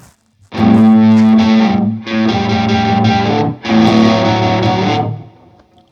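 A distorted electric guitar, a Telecaster, plays three loud sustained chord phrases from a song, thick and saturated, each cut off briefly before the next, with no talk.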